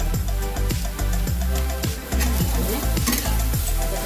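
Soya chunks fry in a pan under a continuous loud sizzle while a spoon stirs them in regular scraping strokes about twice a second, close and busy.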